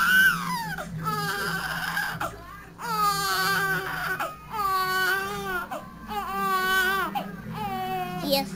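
An infant boy cries loudly in repeated wailing bursts with short breaths between, close to the microphone, over faint household background.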